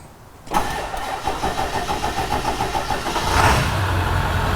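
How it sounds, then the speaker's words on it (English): A 2001 Ford Excursion truck engine cranks and turns over, then settles into a steady, rumbling idle close by. "let's go ahead and start the truck."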